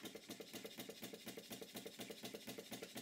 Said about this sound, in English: the engine is making a bit of a clunking noise. It's not exactly a sharp knock, it's just a bit of a thump